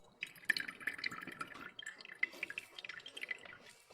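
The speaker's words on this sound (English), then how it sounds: "I'll just pour it through some coffee filters." A cornstarch solution drips and trickles through coffee filters into a container, a close, irregular patter of small bright drops and splashes.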